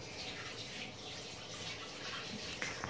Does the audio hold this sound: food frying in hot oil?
no